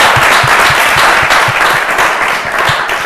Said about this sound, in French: On va applaudir ces groupes royaux.